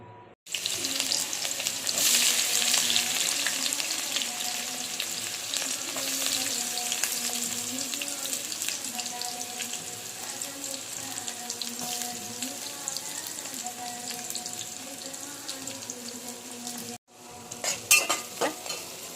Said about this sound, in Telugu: ఆనియన్ మొత్తం శుభ్రంగా వేగనివ్వండి మంచిగా.